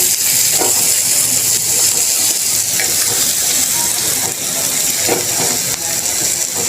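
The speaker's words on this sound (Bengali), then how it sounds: "ভাজা ভাজা করে নিয়েছি ভাজিটা" Sliced bitter gourd fries in a pan as a Bengali karela bhaji, giving a continuous close sizzle with small crackles and scraping ticks, loud and steady throughout.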